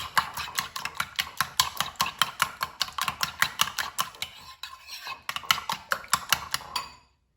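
A utensil whisks omelette eggs with garlic salt in a bowl, a fast, steady run of close clicking taps against the sides that pauses briefly, resumes, then stops.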